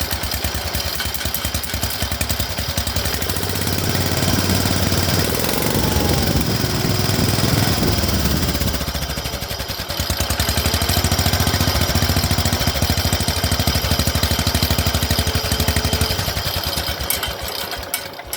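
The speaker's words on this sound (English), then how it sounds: "And now we're going to see what the stack sounds like." A tractor engine fitted with a Tractor Supply muffler stack runs steadily and loud for the whole stretch with a coarse, rapid chugging rumble, close to the listener and without speech.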